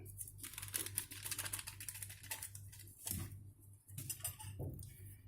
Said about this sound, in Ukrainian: спочатку у борошно я висиплю пакетик розпушувача для тіста